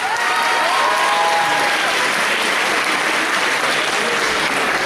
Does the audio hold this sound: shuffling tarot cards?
no